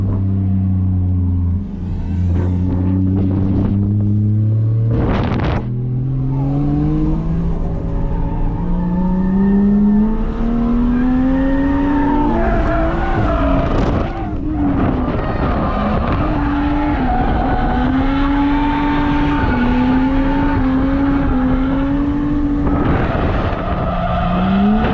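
A race car roars past on the circuit at Nola Motorsports Park during a Fall Matsuri drift event, its engine note rising and falling through a long, loud flyby with tire squeal and rumble.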